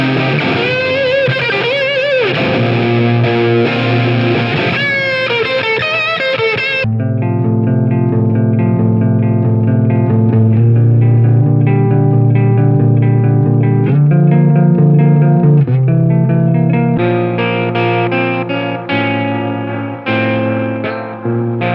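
Electric guitar run through a Tark Audio Tark 144 drive pedal, loud and continuous: bright distorted chords and ringing sustained notes that shift into a darker, thicker overdriven tone, with no voice over the playing.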